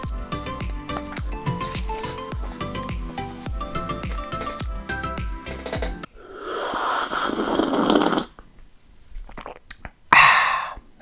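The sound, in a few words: eating Chipotle, chewing mukbang ASMR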